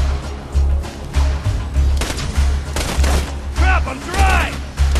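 Rapid automatic gunfire in the video game Borderlands 2 rattles in repeated loud bursts with deep thumps, while someone talks over the shooting and other game effects.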